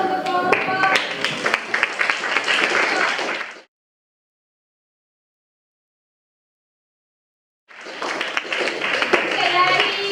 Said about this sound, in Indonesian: kita kasih aplaus untuk kelompok